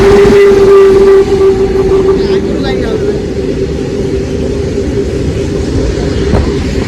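A train arriving at a platform in Bahanaga, a loud rumbling roar opening with a sustained horn tone that cuts off, then continuing as steady wheel noise close by, with people talking over it.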